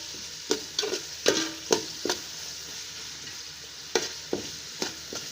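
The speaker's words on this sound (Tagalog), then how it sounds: "Yan lang natin maluto ang sibuyas at luya." Onion and ginger sauté in a hot pan with a steady sizzle, broken by repeated scraping strokes of a spatula stirring them at an uneven pace.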